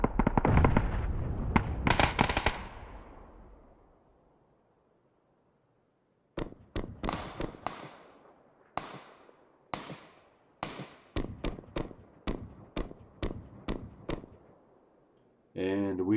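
Gunfire in the PUBG video game, with a dense burst of shots that rings out and fades, then after a pause a long run of separate cracking shots at an irregular pace, with no talk over it.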